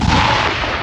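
A French Caesar self-propelled howitzer fires in Ukraine, a loud, close, heavy blast whose roar sustains briefly before cutting off.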